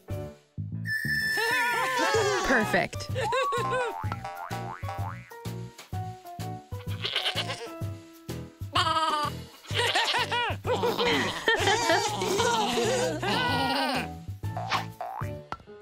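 Goat bleating in a cartoon-style toddler learning animation, a series of wavering, springy bleats and boing-like effects mixed with giggles and a brief spoken word.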